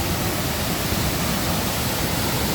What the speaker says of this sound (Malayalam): മഴ പെയ്യുന്നുണ്ട്.